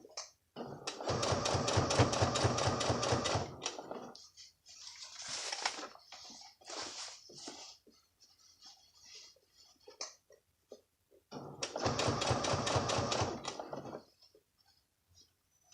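A sewing machine stitches in the ditch along a garment waistband, running in two loud, close bursts of rapid mechanical whirring and clatter, with quieter handling noises and brief pauses between them.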